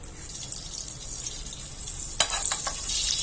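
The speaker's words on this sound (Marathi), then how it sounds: "त्यामध्ये पाव वाटी तेल घालून घ्यायचंय, 2 चमचे बटर घालायचे" Oil and butter sizzle softly in a pot on a gas stove, a steady crackling hiss, then a sharper burst of spattering near the end as more goes in; no one talks.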